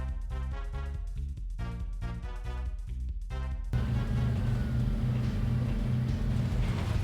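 A racing car drives through a Midtown Madness 2 race with a steady loud droning engine over game music, which drops away partway through and leaves the engine roar and road rumble alone.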